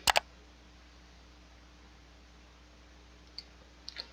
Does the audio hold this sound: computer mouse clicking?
yes